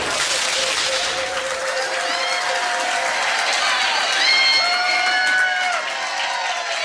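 A pub trivia quiz crowd claps and cheers steadily for several seconds, the applause filling the room at a moderate, even level.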